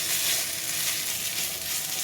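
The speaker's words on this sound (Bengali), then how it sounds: "আদা বাটা আর লঙ্কা বাটা দিয়ে একটু ভাজা ভাজা করে নেব।" Ginger and chili paste fries in hot oil with a continuous, even hiss, close and steady with no voices.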